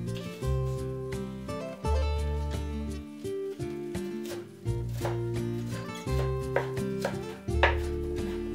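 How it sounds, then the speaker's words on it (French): Kitchen knife slicing the green part of a spring onion into thin rings on a cutting board, a series of quick close taps in uneven bursts, heard over background music. "Détaillez en fines rondelles la partie verte"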